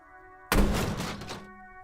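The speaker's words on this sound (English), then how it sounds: "There is a hollow, saddened ring as you kick the Levantorie mail collection box." A kick lands on a graffiti-covered, bullet-holed Levantorie mail collection box in Disco Elysium: one loud hollow thump with a metallic ring that decays over about a second, over a quiet steady game hum.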